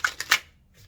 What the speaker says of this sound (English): Let me give it one solid shuffle.